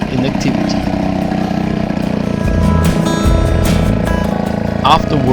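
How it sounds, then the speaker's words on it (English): A small 2 HP outboard motor runs steadily after two decades of disuse, a continuous mid-pitched engine drone with a slightly rough, uneven texture, close and fairly loud throughout. "the little 2 HP engine, started quite well even after 20 years of inactivity"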